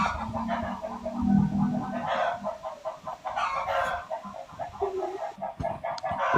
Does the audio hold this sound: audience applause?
no